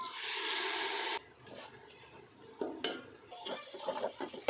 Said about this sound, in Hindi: थोड़ा सा पानी डाल देंगे।